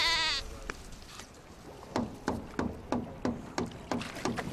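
Sheep bleat out in the desert, several short calls arriving in a fairly regular rhythm at moderate distance, with a brief tonal sound at the very start and no speech.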